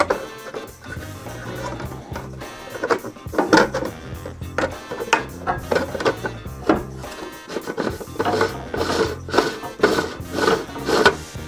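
Lid being fitted and fastened onto a 3D-printed bird seed feeder: a series of close, irregular plastic knocks, scrapes and rubbing clicks, with no talking.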